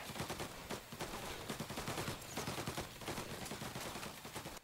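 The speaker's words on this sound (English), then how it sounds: "shot him in the head" Rapid gunfire rattles through a shootout in Mafia: Definitive Edition, a dense, continuous automatic burst of loud shots with no pauses.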